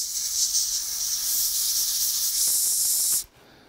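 A continuous hiss of spray paint from an aerosol can sprayed into the channels of a helmet, steady for about three seconds before stopping abruptly.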